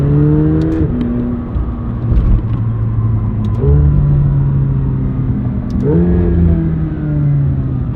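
Rolls-Royce engine revving with paddle shifts, a loud close rumble whose pitch climbs, drops sharply at each gear change, then rises again, with a steady whir underneath.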